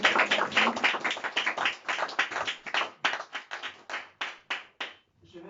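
A church congregation claps together during a Sunday prayer service, a dense round of hand claps that settles into a loose rhythmic beat and thins to a few scattered claps before stopping, with no voices.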